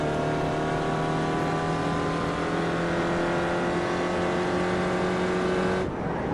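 SRF race car in the iRacing simulator at Summit Point, a loud steady engine drone held at constant pitch through several seconds of throttle before cutting off sharply near the end.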